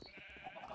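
A Minecraft sheep gives a short faint bleat with a wavering, nasal tone, heard alone in a brief moment of game audio.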